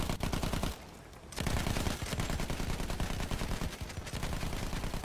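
Gunfire in a video game battle with planes and guns: dense, rapid machine-gun bursts, loud and nearly continuous, with a couple of short pauses.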